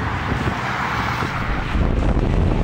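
Strong wind roars steadily and loudly through trees in Pasuquin, Ilocos Norte, buffeting the microphone with a constant low rumble throughout.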